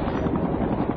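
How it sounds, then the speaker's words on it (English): Black helicopter flying out over the sea off the Florida coast, a loud, steady rotor roar with rapid rhythmic chopping throughout one brief second. "Traveling in unmarked black helicopters, they headed out 20 miles off the coast of Florida"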